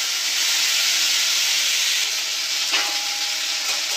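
Cucumber, tomato, dry chillies and mustard seeds frying together in a kadhai, a steady loud sizzle throughout with a brief stir scrape near the end.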